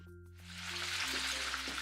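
Vegetarian egg rolls frying in hot oil, a steady close sizzling hiss that swells slightly and holds loud and even over a faint low hum.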